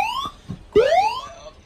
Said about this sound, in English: that alarm sound you hear is not actually coming from the fire panel, that is coming from the software